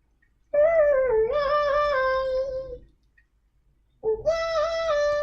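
A sung vocal pitched up an octave with its formants shifted up an octave through a vocal transformer, giving a thin, bright, chipmunk-like tone in two sustained phrases separated by a pause.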